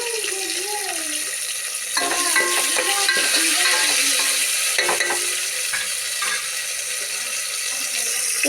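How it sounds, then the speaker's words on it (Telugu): Fenugreek seeds frying in hot oil in a pan for a pachadi, a steady sizzle with intermittent scraping and stirring clatter close by; a voice speaks briefly at the start. "మెంతులు కొంచెం దూరగా వేగాలి. ఆయిల్లో ఇలా వేగిన తర్వాత"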